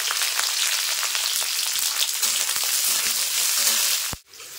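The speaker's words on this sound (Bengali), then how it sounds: "ওই তেলের ভিতর ক্যাপসিকাম আর এই লঙ্কা ভেজে নেবো একই পদ্ধতিতে।" Capsicum and green chilies fry in hot oil with a loud, steady sizzle that crackles throughout, then cuts off sharply near the end.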